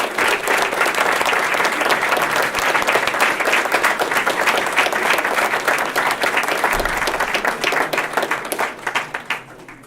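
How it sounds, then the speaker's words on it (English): A large audience at a high school cross-country proclamation event gives the athletes' parents a loud, sustained round of applause, dense clapping that holds strong for several seconds before tapering off. "I would like all the parents of these amazing athletes to stand up and get a loud, proud round of applause"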